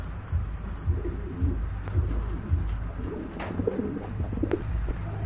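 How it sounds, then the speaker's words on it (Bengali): A pair of black pigeons coo steadily and repeatedly, fairly close, with soft low throaty calls and a rumbling background hum, no talking. "দেখেন খুবই চমৎকার এক জোড়া কবুতর।"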